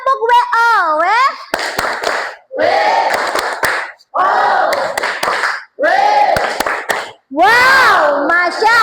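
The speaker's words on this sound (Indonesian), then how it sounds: "Yuk kita tepuk WO" Primary school children in a classroom perform a call-and-response clapping chant, several bursts of loud group chanting punctuated by sharp claps, with short pauses between rounds.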